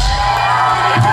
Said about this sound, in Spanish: un aplauso para Paco en la batería